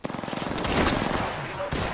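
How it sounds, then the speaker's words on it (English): Rapid automatic gunfire from the Apex Legends video game, a fast burst of repeated shots up close, loud and dense, with a brief pause and another crack near the end. "I am taking fire, friends."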